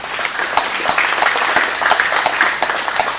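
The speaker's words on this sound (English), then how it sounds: "give Ray and the leadership team a round of applause for putting this together" Audience at a county Republican candidates forum applauding, a dense, steady wash of clapping from a roomful of people throughout.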